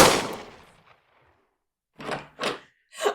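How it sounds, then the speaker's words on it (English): Gunfire rings out from a hayloft in a comedic podcast skit: one loud sharp blast with a long decaying echo, then silence, followed by three quick separate bursts. "There were several gunfire shots from the hayloft."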